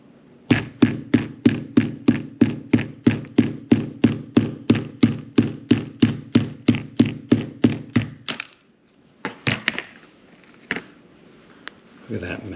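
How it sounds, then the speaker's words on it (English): Rapid, evenly spaced hammer taps strike a wooden dowel about two dozen times during a Yamaha RD400 carburetor rebuild, then stop, followed by a few scattered knocks and handling noises. "do this with a hammer and a dowel"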